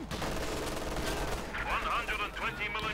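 Machine gun fire and other gunshots from a Company of Heroes 2 one-versus-one match come in dense bursts and rattles, with a voice talking over the second half.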